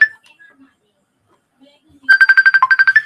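A phone ringtone plays a quick run of about ten evenly spaced bright electronic tones, loud and clear over near silence after a brief earlier beep.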